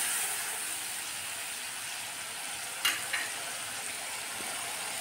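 Tomato paste being sautéed in a pan, a faint, even frying hiss with one or two soft spatula scrapes partway through.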